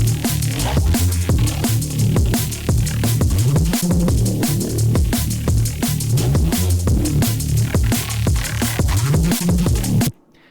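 Nasty Reese bass from a Serum preset playing with drums, a dense growling low synth line under steady punchy kicks and crisp hits, loud and continuous for ten seconds before stopping abruptly.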